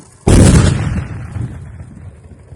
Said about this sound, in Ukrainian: зараз відбудеться підрив.